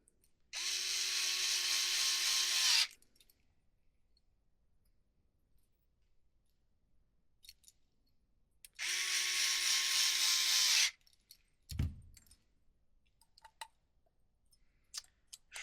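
Two bursts of roughly two seconds each from a small power screwdriver drive M3 screws into holes while a 2025 Genius GTC8E RC car is assembled, followed by a sharp knock and light clicks and handling of parts.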